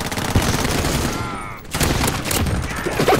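Gunfire in the video game Call of Duty: Modern Warfare: rapid bursts of automatic shots with a short lull midway, loud and close, while players talk over it.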